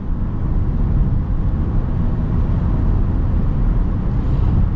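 A 2024 Kia Sorento X-Line SUV accelerates from inside, giving a steady broad roar of engine and road noise at fairly high level with no voices.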